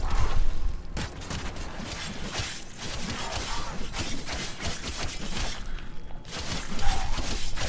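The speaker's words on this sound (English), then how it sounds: "we're going to fire a couple shots just to strip his armor" Weapon fire in the Warframe video game, a rapid burst of sharp, crackling shots close up, followed by scattered impacts and metallic mechanical clatter, with another loud burst near the end.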